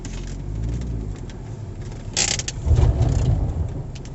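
Volvo S60 engine idling while parked in shade, a steady low rumble with some mechanical clatter, heard up close.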